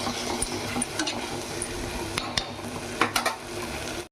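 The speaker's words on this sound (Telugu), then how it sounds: "ఒకసారి మళ్ళీ గరిట పెట్టి తిప్పుకున్నాం. జాగ్రత్తగా తిప్పండి" A ladle stirs a spicy yogurt-based egg masala curry in a pan, with a continuous gentle sizzle broken by a few sharp clinks and scrapes near the end.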